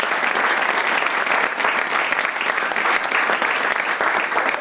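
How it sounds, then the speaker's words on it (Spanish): Applause from an audience at a live storytelling event, a dense, steady wash of many hands clapping throughout at close range with no gaps. "Así que un aplauso para ellos."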